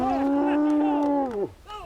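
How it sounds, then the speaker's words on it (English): Cattle of an ancient Maremma breed, handled by Tuscan cowboys, give one long, loud, close moo that holds steady before sliding down and breaking off, followed by a brief softer call. "The cows are one of the oldest breed in the world."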